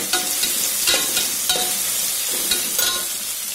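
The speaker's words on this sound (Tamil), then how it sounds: "மிளகு இதிலே போட்டு ஃப்ரை பண்ணிக்கோங்க." Peppercorns frying in hot oil in a pan for vegetable pulao, a close steady sizzle broken by a few sharp stirring scrapes and crackles, with no talking.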